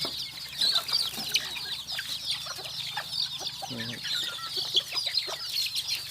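Bantam chickens, including a hen with fully white earlobes, cluck in a coop with repeated short clucks and scattered calls over a steady background, while someone speaks briefly.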